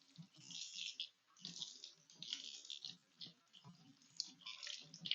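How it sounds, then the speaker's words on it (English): Water runs and splashes in bursts as tie-dyed fabric is rinsed out, near and quiet, with uneven sloshing and a few small clicks. "And then we need to rinse them out."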